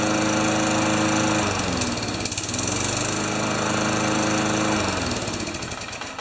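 A Craftsman lawn mower engine, freshly cleaned carburetor, runs loud and close with a steady buzzing drone and dense harmonic whine, a brief dip and surge in revs midway, then holds before easing slightly at the end.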